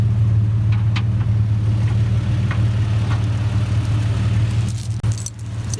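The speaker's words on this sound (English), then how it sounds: "Surprised my truck was able to pull you out." A pickup truck engine labours at a steady low drone while towing a stuck vehicle free during off-roading, the rumble continuous and close for several seconds with a faint metallic jingle over it and a brief dip near the end.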